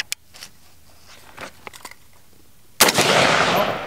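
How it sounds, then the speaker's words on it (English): Single rifle shot fired from a rifle fitted with 3D-printed resin tangent sights, a sharp loud crack followed by a long noisy decay, preceded by quiet handling clicks. "let's see how quickly I can acquire the sight and let off a shot."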